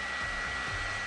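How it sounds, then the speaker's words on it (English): A hair dryer, tipped sideways with a ball held in its airflow, blows steadily at close range, a constant loud whooshing hum with a low motor drone throughout. "watch what happens when I tip the hairdryer sideways"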